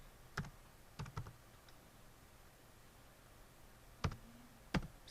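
Commands typed on a computer keyboard: a few sparse, faint key clicks and taps spread apart over a quiet background hiss, with no talk.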